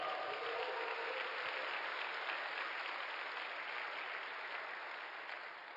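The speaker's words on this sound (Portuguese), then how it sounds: "Quem recebe, dá um aplauso aí ao Senhor." A church congregation applauds during a Sunday service, a steady wash of clapping that holds evenly for several seconds and eases off slightly at the end, with no talk over it.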